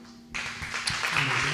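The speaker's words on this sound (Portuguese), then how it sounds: "Podem aplaudir o Senhor?" A church congregation breaks into applause for the Lord, a sudden swell of clapping from many hands that fills the room and keeps going steadily.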